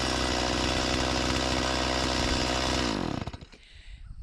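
A chainsaw roars at full, steady throttle close by, then abruptly cuts off and sputters to a stop, leaving faint rustling afterward.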